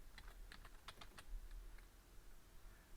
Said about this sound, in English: I'm just typing it myself just so I can learn it